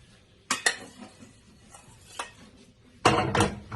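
Cooked vegetables, ginger and onions are tipped into a pot for beetroot and carrot soup. A few sharp clatters and scrapes of utensil on metal come close up, ending in a louder burst of tumbling food and clinks.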